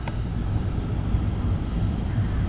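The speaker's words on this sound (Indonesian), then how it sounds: "Ini adalah kereta api Tanah Melayu ya." A steady low rumble of a Malaysian KTM passenger train idling or rolling slowly at a station, dense and continuous, with no voices.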